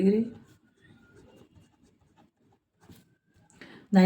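Faint pen scratches come while a geometry proof about triangles is written out, soft and intermittent in a quiet pause, with a person talking just before and just after.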